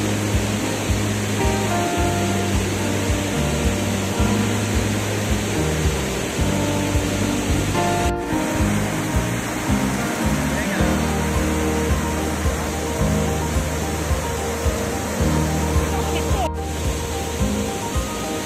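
Steady roar of Naculo Falls, a waterfall in Cavinti, Laguna, a broad continuous rush of falling water filling the scene from nearby at even loudness throughout.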